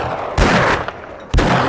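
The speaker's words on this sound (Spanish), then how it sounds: "Falló todos los tiros." Gunfire in the 7 Days To Die zombie survival game, two loud, sharp shots about a second apart, each with a ringing tail, over steady game ambience.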